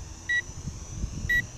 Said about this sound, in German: Er gibt mir auch so ein Piepsignal.